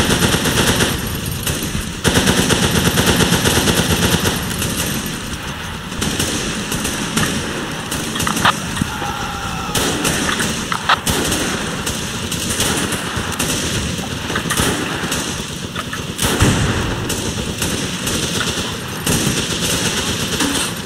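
Sustained machine gun fire from a tank in a World War II Pacific battle at Guadalcanal in a video game, dense rapid bursts running continuously and loud throughout with engine rumble and battle noise underneath.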